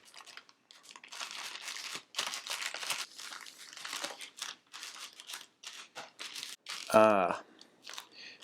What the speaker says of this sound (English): Let's get this plastic off.